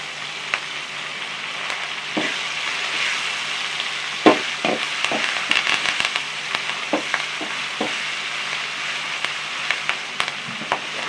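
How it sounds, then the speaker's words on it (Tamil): Curry leaves sizzle and crackle in hot oil for tomato chutney, a steady frying hiss broken by scattered sharp pops and spatters, close and moderately loud. "இதில் கொஞ்சம் கருவேப்பிலை வந்து சேர்க்குறோம்."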